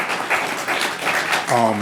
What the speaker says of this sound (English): Can we give those gentlemen a round of applause for their hard work